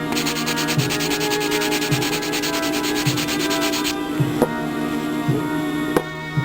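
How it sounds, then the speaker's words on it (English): A plastic button part from a Moebius Monster Scenes model kit is sanded flat by hand, with rhythmic rubbing strokes about once a second, close and fairly loud, over a faint steady background hum. "Now I just sand this button here flat."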